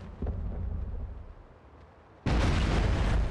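A grenade blast in SOCOM 4 on PlayStation Move: a low rumbling lead-in, then a sudden loud, broadband explosion that holds dense and roaring to the end.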